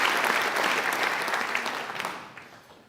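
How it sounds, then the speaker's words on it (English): An audience gives a round of applause, dense and sustained at first, then thinning and fading out over about three seconds. "We need to give them a round of applause for their sacrifice for our country."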